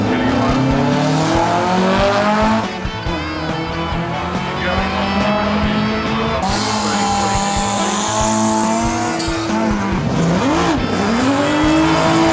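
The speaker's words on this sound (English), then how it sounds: "partake in a quarter-mile dash down the Penrite track in your classic" Classic car accelerating hard down the Penrite quarter-mile track at the Geelong Revival Motoring Festival, engine revving and rising in pitch with tyre noise, loud and close, with background voices and crowd.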